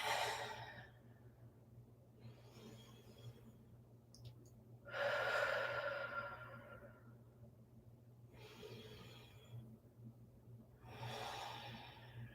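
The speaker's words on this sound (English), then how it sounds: "And just taking a moment to breathe." Slow, deep breaths during a yoga cool-down: about five soft, airy inhales and exhales spaced a couple of seconds apart, close and quiet over a faint low hum.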